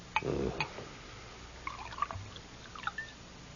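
A drink is poured into a cup, with a short liquid pour and faint drips and trickles, quiet and near with no talk.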